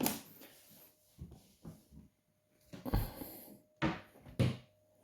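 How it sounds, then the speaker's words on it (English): A cupboard door with a freshly repaired hinge swings shut in a quiet room, giving a few soft knocks and bumps, then two sharper closing thuds near the end. "I'll just check that the door closes okay"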